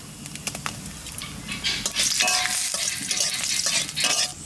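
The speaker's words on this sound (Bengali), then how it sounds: "এবার সর্ষে শাকটা ভেজে নেব। কালো জিরে, শুকনো লঙ্কা," Mustard greens frying in a pan with black cumin and dried chilli, a bright crackling sizzle that swells midway, with spoon scrapes and light metallic clinks close by, no talk.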